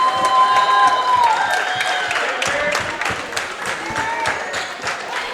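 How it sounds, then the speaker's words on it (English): A basketball crowd in a school gym applauds a player leaving the game: sustained clapping and cheering with shouts and high squeaks mixed in, loud and steady throughout. "Eric getting a big round of applause as he leaves the game"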